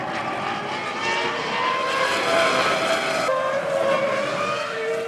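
Two Ferrari Formula 1 cars race past during the 2002 season, their high engine whine loud and sustained with a shift in pitch as they go by, no voices over it.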